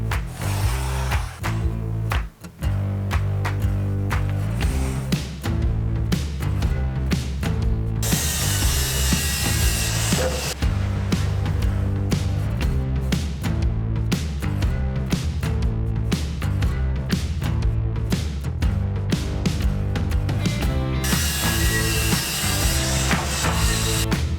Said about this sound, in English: So we're gonna cut some plywood now and start building that